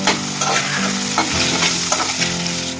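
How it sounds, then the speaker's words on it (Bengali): Potatoes fry in a pan with salt and turmeric, giving a steady close sizzle broken by occasional stirring scrapes, with no talking. "তো আলুগুলোকে ভালো করে ফ্রাই করে নেব।"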